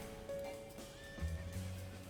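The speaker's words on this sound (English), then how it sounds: "Get your arse over here, horsey." Horse in the Final Fantasy XIV video game gives a short, clear neigh over faint hoof clops. It lasts about two seconds and is heard on its own.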